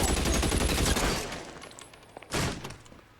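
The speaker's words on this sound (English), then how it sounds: "Did you not hear the gunshots?" Rapid bursts of gunfire in the LA Noire video game, a loud dense volley followed by a sharp single shot and fading echoes, with no talk.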